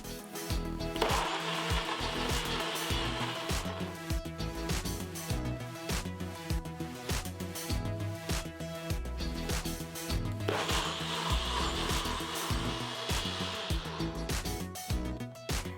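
Magic Bullet blender whirring through strawberries, a loud, dense motor roar that runs almost continuously with brief surges and shifts in pitch as the contents churn, no voices.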